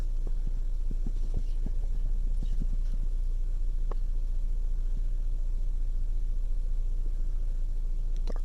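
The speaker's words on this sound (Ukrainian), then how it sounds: "Тепер ми глушимо двигун." A Hyundai Sonata engine idles with a steady, loud low hum and faint rhythmic throbbing, running continuously and close by with no voices, during an oxygen sensor replacement.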